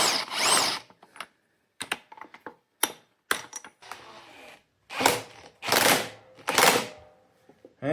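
Puller working a part loose on an Evinrude or Johnson outboard motor: a series of sharp, close mechanical clicks and ratcheting bursts at irregular intervals, with brief quiet gaps.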